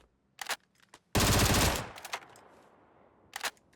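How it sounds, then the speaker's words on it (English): FAMAS rifle in the PUBG video game: a few sharp single shots, then a loud, rapid full-auto burst lasting under a second, followed by more isolated shots. "Here's your single fire, burst fire. And then we go back to full auto here."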